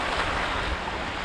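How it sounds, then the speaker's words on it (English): Mediterranean Sea waves washing in steadily at a beach in Sitges near Barcelona, a continuous close rush of surf with wind buffeting the microphone and no talk. "Mediterranean Sea."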